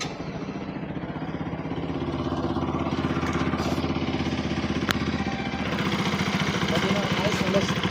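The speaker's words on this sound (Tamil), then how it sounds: "பைக்கை ஸ்டார்ட் பண்ணி இன்ஜின் நாய்ஸ் எப்படி இருக்குன்னு செக் பண்ணிடலாம்." A Bajaj RS 200 motorcycle engine idles steadily after an oil change, a close, even mechanical thrum with rapid pulsing running throughout.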